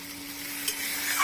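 Onions, peas and spices being stirred as they fry in a pan for egg curry, giving a steady close sizzle with a soft scrape of the spoon.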